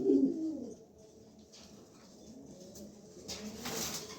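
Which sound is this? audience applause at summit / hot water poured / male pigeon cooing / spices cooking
male pigeon cooing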